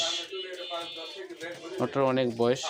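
Soft pigeon coos murmur close by, ending in a fuller, throaty coo.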